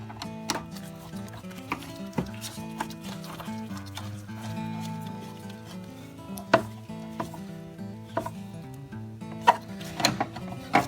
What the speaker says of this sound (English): Then we want to tighten up our bracket here.